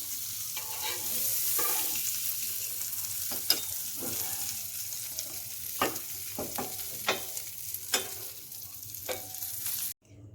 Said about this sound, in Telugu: తీసి మనం రెడీ చేసి పెట్టుకున్న ఈ ఎగ్లో వేసి అప్పుడు మళ్ళీ కలుపుదాం.